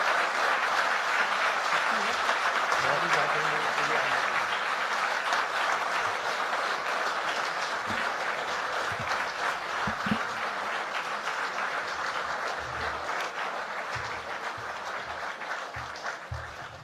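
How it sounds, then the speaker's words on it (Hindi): Long, steady audience applause at a mushaira poetry gathering as Professor Waseem Barelvi walks to the stage, a dense continuous roar of clapping with faint low background murmur underneath. "तो एक बार इतनी तालियां हम बजाएंगे जब तक प्रोफेसर वसीम साहब स्टेज तक आए"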